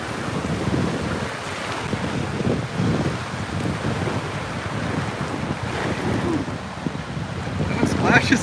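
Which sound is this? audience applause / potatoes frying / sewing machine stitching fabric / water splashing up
water splashing up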